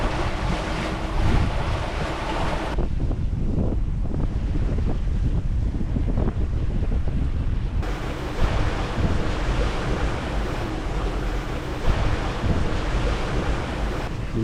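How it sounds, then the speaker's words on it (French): Steady wind blowing along a coastline on a sailboat in cool, fresh breeze, loud and continuous with surf and water wash, gusting stronger in the opening and closing stretches, with no voices. "Il vente un petit peu plus"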